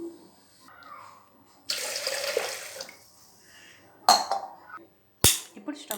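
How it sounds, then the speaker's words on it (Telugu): Water pours into a pressure cooker for cooking moong dal, a steady splashing stream lasting a couple of seconds. Sharp clanks of metal vessels follow, close and loud, with no speech. "ఇప్పుడు మనం 2 గ్లాస్ వాటర్ యాడ్ చేసుకుంటున్నాను నేను."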